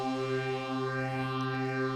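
A Logic ES2 synth note with unison on, four voices stacked, holds a sustained, thick buzzing tone with slight chorus-like beating, steady and loud throughout.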